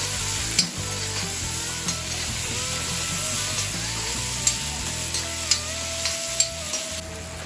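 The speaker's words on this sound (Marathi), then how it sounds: "टोमॅटो देखील मिक्स करून घ्यायचा आहे." Tomatoes stirred into a hot pan of spicy keema, giving a continuous close sizzle with a few sharp scraping taps of the spoon.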